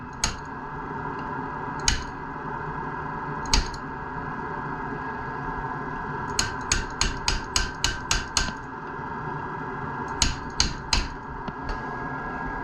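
Sharp metallic taps of a wrench on a flat piece of timber, a few spaced strikes then quick bursts of rapid tapping, close by over a steady background hum.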